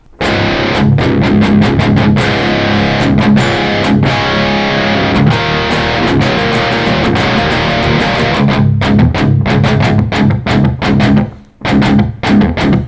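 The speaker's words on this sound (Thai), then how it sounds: "อ่ะเป็นเสียงแตกบ้าง" Loud distorted Schecter electric guitar plays heavy, chugging emo-era riffs with sharp rhythmic stops, dropping out briefly near the end before resuming.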